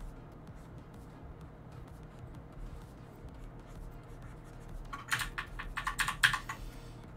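Quick bursts of keyboard and tablet express-key clicks, with a Control Z shortcut tapped in a short flurry over faint steady background hum after a long quiet stretch.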